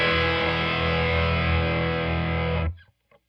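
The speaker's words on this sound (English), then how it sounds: "Here's my mild overdrive." Electric guitar played through a mild overdrive, a dense sustained chord ringing for under three seconds before cutting off abruptly, with no talking over it.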